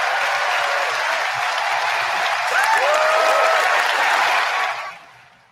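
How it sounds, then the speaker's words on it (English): Sustained audience applause fills the room at a woodworking-software presentation, dense and steady clapping at close range that swells slightly midway, then fades out over the last half second. "that was a lot of clapping you got there"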